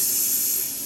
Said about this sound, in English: spray water mist.